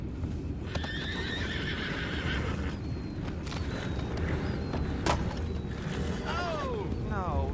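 Several horses whinny over a steady low rumble in the video game Red Dead Redemption 2, with clip-clopping hooves and occasional creaks; a voice murmurs faintly in the background.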